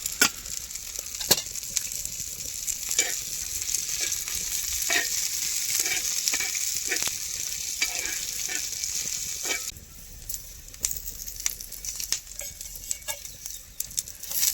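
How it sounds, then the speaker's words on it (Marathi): Two large onions fry with a steady loud sizzle in a pan for a drumstick-pod curry with roasted masala, while a spoon scrapes and stirs in repeated sharp clicks; the hiss drops slightly near the end. "दोन कांदे घेतलेत मोठाले ते टाकते म्हणजे कसं पटकन भाजून ते कांदा"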